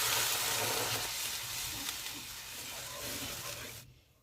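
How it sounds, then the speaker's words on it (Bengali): Boal fish curry gravy with spices and water cooking in a pan, a close, dense hissing bubble with faint stirring that holds steady then cuts off abruptly near the end. "মাছের ঝালের গ্রেভিটা ফুটতে শুরু করেছে"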